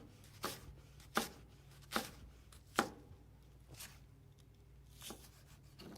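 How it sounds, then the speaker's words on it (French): A knife chops through half of a large onion on a cutting board: several sharp, distinct thuds in an uneven rhythm, fairly close, with quieter cuts between them and no talk. "À présent que j'ai fini de couper les poivrons, je m'attaque à l'oignon."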